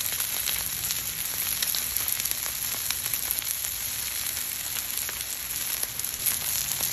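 Chuck steak sears steadily in a hot pan, a dense, even sizzle with a crackly hiss that holds close and loud the whole time, with no talking over it.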